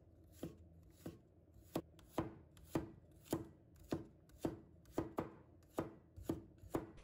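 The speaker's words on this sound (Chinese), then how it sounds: "把它切成蒜片。" A knife slices peeled garlic cloves on a cutting board in a quiet kitchen, about a dozen crisp, evenly spaced chops knocking against the board, close and clear, with no speech.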